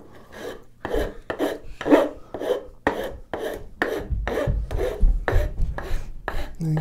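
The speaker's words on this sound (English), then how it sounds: "this is just a series of different files" A series of progressively finer files rasp in the wooden body of a grooving plane made from firewood, in quick, evenly spaced back-and-forth strokes close by.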